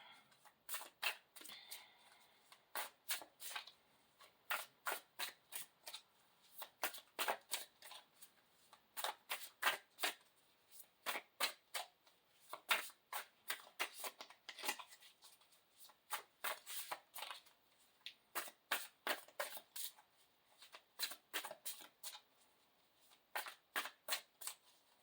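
Deck of tarot cards being shuffled by hand, a long run of crisp riffling and flicking bursts in irregular clusters with brief pauses, close and fairly quiet, without talking.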